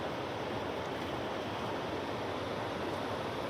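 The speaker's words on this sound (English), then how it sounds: "So we made it down to a little river section." River water along a forest hiking trail rushes as a steady, dense broadband roar that holds even and unbroken throughout, with no voices over it.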